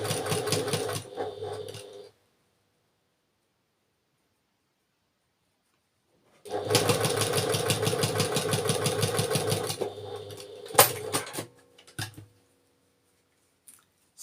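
A sewing machine stitches quilt block seams for a nine-patch quilt, running in a steady fast whirring burst, then stopping, then a longer run ending in a few clicks and thumps, close and clear with no voices.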